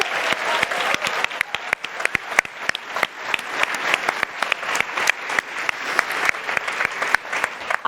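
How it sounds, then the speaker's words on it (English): Steady applause from a room full of people at an award ceremony, dense clapping that carries on throughout at an even, lively pace. "So a huge round of applause to all of you for being courageous enough."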